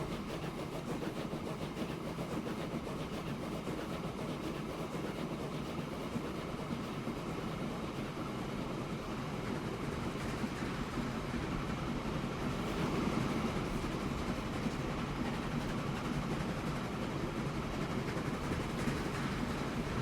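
A train rolls along in Transport Fever 2, a steady low rumble with a faint rhythmic rattle of wagons, continuous and even throughout.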